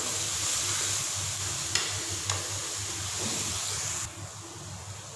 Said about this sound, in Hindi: अब हम लोगों ने जो है इसमें डालने हैं लहसुन का पेस्ट जो मैंने बना लिया था